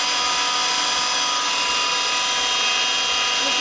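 The main spindle of a Star SV32J CNC Swiss lathe spinning at 2500, a steady, loud, close mechanical whine with a constant high tonal hum and no variation throughout.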